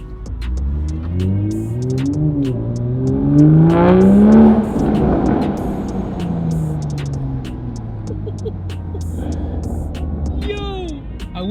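An MK5 Toyota Supra with an AWE resonated touring exhaust drives and accelerates. The engine note climbs through several rising sweeps, peaks loud, then settles into a steady drone, with someone talking over it at times.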